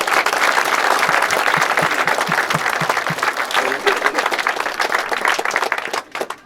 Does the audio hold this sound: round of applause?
yes